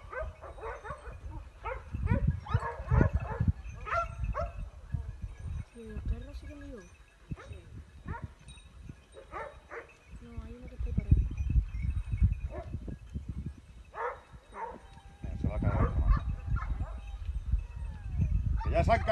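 Hunting dogs bark, yelp and whimper repeatedly near a cliff, in overlapping bursts through the clip, while excited voices shout over them.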